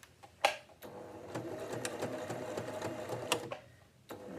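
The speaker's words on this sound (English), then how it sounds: "remembering to back stitch at the start and end of your sewing" Sewing machine stitches fabric for a sunglasses or phone case, with a steady rapid whirring run framed by clicking starts and stops for back stitching, fairly faint and close.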